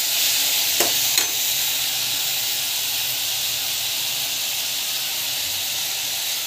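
Tomato paste sautés in a pan for kara kuzhambu, a constant close hiss of frying with two sharp scraping knocks near the start, then an even sizzle with no voices.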